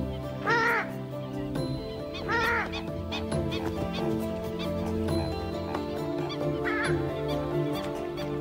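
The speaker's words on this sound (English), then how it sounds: "This is the purple swamp hen, also called the sultana bird, famed for its very loud," A purple swamp hen (sultana bird) in Thailand gives loud, explosive honking calls in three separate bursts over a steady bed of background music.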